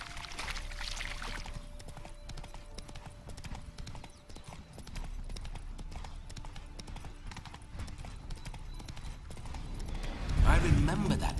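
Horse hooves clip-clop in a steady rhythm in The Witcher 3: Wild Hunt, moderately close, with voices talking over them and a louder rustling burst near the end.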